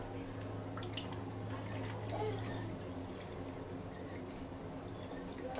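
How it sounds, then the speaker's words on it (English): Water trickles and pours steadily into a Gourmia iced coffee maker's water reservoir with a soft splashing, close by and fairly quiet, continuing through the whole stretch. "you're going to pour it in your little water reservoir here."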